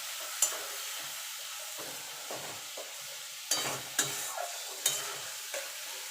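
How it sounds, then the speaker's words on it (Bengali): Spice paste for fish-head moong dal, cooked without onion or garlic and loosened with a splash of water, sizzles gently in a pan, with a few sharp scrapes and taps of the spatula at irregular intervals. "সামান্য একটুখানি জল দিয়ে দেবো, দিয়ে মশলাটাকে একটুখানি কষিয়ে নেব"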